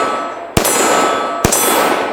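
Two sharp metallic clangs from pistol rounds striking an AR-500 steel cowboy target, spaced about a second apart, ringing briefly over steady outdoor background noise.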